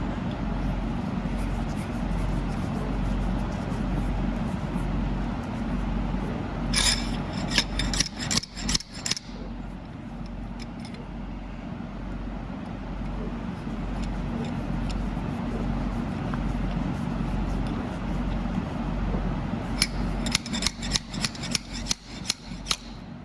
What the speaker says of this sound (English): I'm gonna take this seal I put in last weekend out because it's in too far